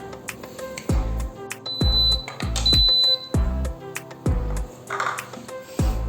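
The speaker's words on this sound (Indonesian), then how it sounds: "itu tadi bunyinya kalau misalnya nasi yang kita masak itu udah matang ya" Several loud electronic beeps in a repeating pattern from a Yong Ma SMC8027 rice cooker signaling cooked rice, each a bright tone with a sharp low thump, sounding alone close by.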